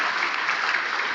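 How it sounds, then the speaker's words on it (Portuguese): Congregation applauding during a church service, a dense, steady wash of many hands clapping at once, fairly loud and with no speech over it. "vamos aplaudir mais ao nome de Jesus"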